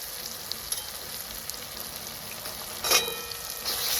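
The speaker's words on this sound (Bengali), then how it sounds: "আদা রসুন এই পেঁয়াজ আর রসুনটাকে একসঙ্গে আমি একটু লাল করে নেব" Onion and ginger-garlic paste fries in a pan for chicken kosha, giving a steady soft sizzle with a brief louder burst of stirring near the end; no talking.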